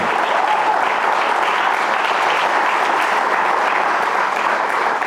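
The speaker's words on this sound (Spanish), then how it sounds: "Si va a aplaudir, hágalo fuerte, hermano, porque usted está aplaudiendo al Señor." A church congregation claps loudly and steadily at a sermon, dense continuous applause from a large crowd holding an even level throughout, with no voices standing out.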